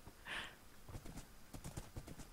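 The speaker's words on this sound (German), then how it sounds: "Und auch wie das Pferd irgendwie läuft" A horse trots in the Minecraft video game, its faint, rapid clip-clop hoofbeats tapping in an uneven rhythm, with a soft whinny-like burst at the start.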